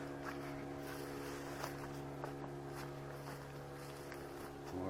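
A small boat moving on open water near a wild island, with a steady low motor drone and some wind and water noise, faint and continuous with no talking.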